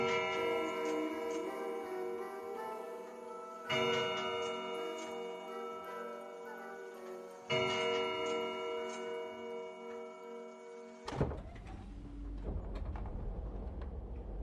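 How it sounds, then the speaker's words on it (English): A grandfather clock strikes three, each resonant chime ringing out and slowly decaying, then a heavier clunk and rustling noise follow in a quiet indoor room. "The bottle was nearly empty when the grandfather clock began to strike 3."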